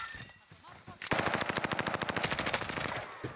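Rapid automatic gunfire close by in Call of Duty: Warzone, a loud sustained burst of evenly spaced shots after a quieter moment with faint background noise and brief talk.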